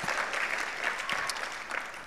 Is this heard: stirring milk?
no